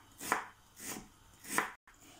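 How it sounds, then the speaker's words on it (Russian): Knife finely chopping onion on a board in a home kitchen, three separate bursts of cuts spaced about half a second apart, close and fairly quiet, followed by a brief silence. "мелко нарежем лук."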